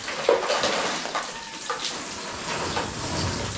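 Water from a hose poured from above onto a construction site, a steady broadband splashing and spattering on hard surfaces, fairly close and continuous throughout.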